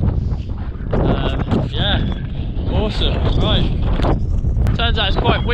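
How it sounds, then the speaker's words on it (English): Strong gusty wind on the western edge of the Great Orme in Wales buffets the microphone in a constant low roar, with a person talking over it throughout. "Turns out it's quite windy on the western edge of Great Orme compared to the other side."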